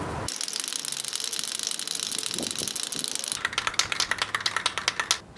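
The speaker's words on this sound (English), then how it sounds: "you need to shake the can for at least a minute before you use it" A small metal spray can of case lubricant rattles in fast, steady shakes, the ball inside clicking rapidly, growing louder and more distinct toward the end.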